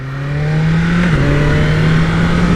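A 2023 BMW S1000RR motorcycle engine hums steadily at a constant pitch while being ridden, a loud sustained drone with a slight dip in tone midway and no talking.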